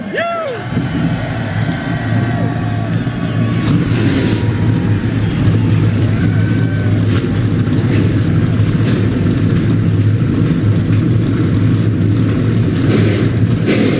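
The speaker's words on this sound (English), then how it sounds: "Drivers, start your engines!" Race car engines fire up and settle into a loud, steady idling rumble at an SRX series event at Lucas Oil Speedway in Missouri, with several cars running together throughout and a crowd or announcer faintly underneath.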